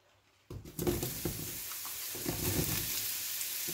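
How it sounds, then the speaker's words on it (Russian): Champignon mushrooms hit hot sesame oil and start frying, as a sudden sizzle that swells and then holds as a steady, close hiss with small crackles and no voices. "Немного кунжутного и обжариваю шампиньоны."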